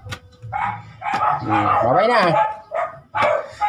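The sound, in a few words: dogs barking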